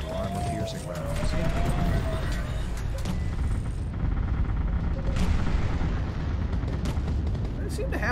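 Rumbling, booming video game gunfire from armor piercing rounds in Artificial Extinction, a dense continuous wash of shots and blasts lasting several seconds with no clear talk.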